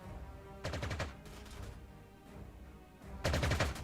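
Gunfire in Panzer Corps 2, aimed at Stuka dive bombers during the Battle of Sedan: two loud bursts of rapid automatic shots, one early and one late, separated by quieter scattered firing.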